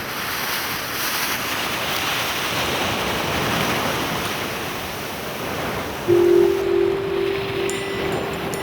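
Rough ocean waves surge and crash against volcanic coastal rocks, a loud, continuous roar of churning surf with wind buffeting the microphone. A brief steady hum joins in near the end.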